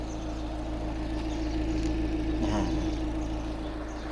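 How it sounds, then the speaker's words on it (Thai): A 1997 Toyota Soluna 1.5 GLI with automatic transmission idles steadily after starting, a low, even engine hum that runs without a break and sits fairly quiet in the background. "นี่ผมสตาร์ทเครื่องแล้วนะครับ"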